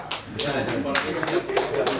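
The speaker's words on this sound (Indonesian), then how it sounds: "Tepuk tangan." A crowd at a gathering in Karubaga, Tolikara, Papua claps hands in quick, rhythmic bursts close by, with voices audible beneath and between the claps.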